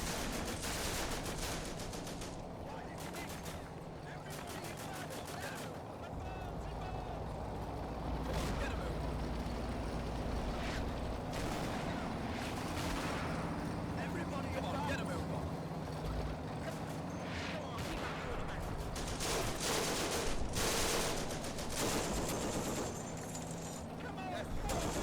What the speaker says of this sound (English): some of that artillery is landing a little close